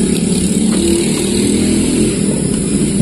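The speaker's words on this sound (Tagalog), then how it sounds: "Yung motor na dumadaan" A passing motorcycle engine drones loudly and close by, a steady buzzing roar that holds through the whole stretch, with no clear speech over it.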